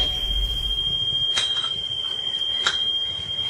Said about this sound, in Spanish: el sonido es de una alta frecuencia, es un chirrido casi eléctrico